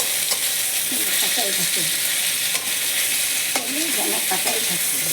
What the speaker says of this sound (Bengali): সুন্দর করে ভাজছি এইভাবে ভাজতে হবে